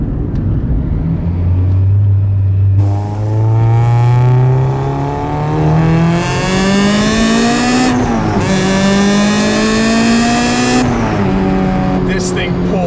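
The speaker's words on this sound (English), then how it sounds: "it's definitely a loud car at that point" A supercharged 2008 Honda S2000 CR engine roars and climbs through the revs, briefly dropping between shifts, loud and close with a harsh, rasping whine.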